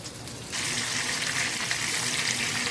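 Bombay duck fish fillets frying in a pan in a masala fry, giving a sudden loud sizzle that starts about half a second in and then holds as a steady bright crackling hiss.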